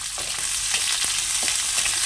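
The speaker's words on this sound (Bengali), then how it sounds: "একটু ভেজে নেব" Onions fry in a hot pan, joining cumin and dried red chillies already in the oil, with a steady close sizzle and a few soft scrapes as they are stirred. No one speaks.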